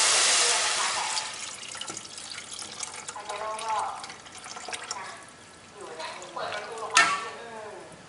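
Soup broth pours into a pot of gaeng om with pumpkin and nearly cooked pork, making a continuous splashing, watery rush with a few stronger gushes. A voice talks faintly underneath.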